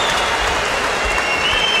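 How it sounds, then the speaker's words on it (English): Crowd at an M-1 Challenge mixed martial arts fight cheering and applauding, a loud, steady roar of clapping and voices filling the whole stretch without a break. "Well, the crowd are cheering."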